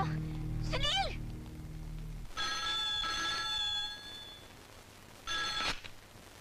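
A telephone rings in a doctor's setting in a Hindi action film, two separate bursts of a bright electronic trill, the first longer than the second, after a short vocal sound, with a low hum underneath.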